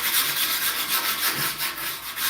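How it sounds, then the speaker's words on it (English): A wooden skateboard deck being sanded by hand, giving a steady, close, raspy rubbing with quick repeated back-and-forth strokes and no talk. "And I sand it."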